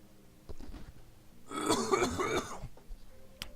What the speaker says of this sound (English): having a little bit of a coughing problem today.